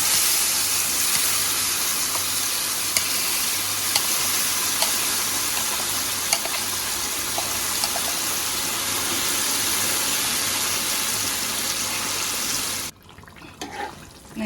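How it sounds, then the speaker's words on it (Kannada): Coriander tokku paste sizzling and frying steadily in tempering oil, a dense continuous hiss close by that runs unbroken for most of the clip before cutting out near the end. "ಇವಾಗ ಚೆನ್ನಾಗಿ ಫ್ರೈ ಮಾಡ್ಕೊಳ್ಳೋಣ ಇದನ್ನು."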